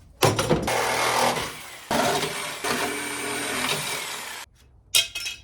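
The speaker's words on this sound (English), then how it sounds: "It's Sawzall time." A Sawzall reciprocating saw cuts into the body of a Cherokee-and-Rambler hybrid car build, giving a loud, harsh buzzing in several long bursts with brief pauses between cuts, alone and without talk.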